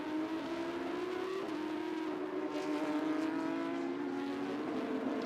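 A Porsche Carrera Cup race car approaches during qualifying, its engine a loud, steady high whine that rises and holds strongly for several seconds with no voices over it.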